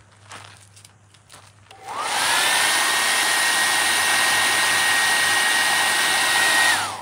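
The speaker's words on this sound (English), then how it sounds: "Need my blow dryer." A hair dryer switches on and blows with a loud, steady whirring hum and a high whine, preceded by faint handling noises.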